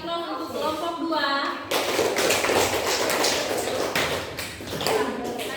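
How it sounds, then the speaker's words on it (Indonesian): A classroom group is applauded with a burst of many hands clapping, loud and dense, filling the room for several seconds right after a short stretch of someone speaking. "Kita kasih aplaus untuk kelompok 2."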